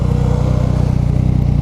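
A 2015 Yamaha FZ-09 (MT-09) motorcycle engine revs loudly and steadily at close range, a throaty, rapid pulsing growl with no speech over it.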